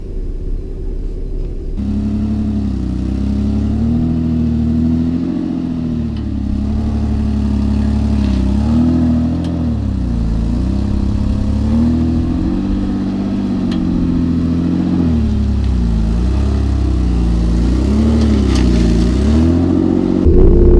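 A four-wheel drive with independent front suspension labours over a rough, bumpy track, its engine rumbling and revving in waves as the tyres lose traction, loud and steady throughout with no talk.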